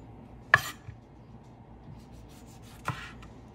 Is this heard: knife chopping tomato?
yes